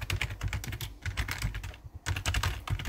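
Close, steady typing on a computer keyboard while text is entered into an Excel cell, a rapid patter of key clicks with a brief pause near the middle and no voices.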